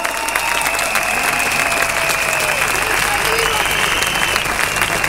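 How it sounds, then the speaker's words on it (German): A large outdoor crowd at a mass rally and demonstration in Berlin applauds steadily and loudly for the whole stretch, with cheers and shouts rising through the dense clapping. "das ist euer Applaus."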